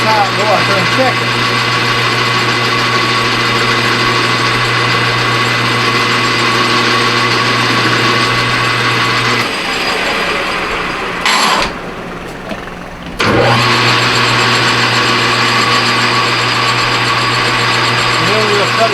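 A metal lathe runs with a steady whirring hum while a spring cutting pass scrapes along, pausing briefly before the machine resumes at full tone.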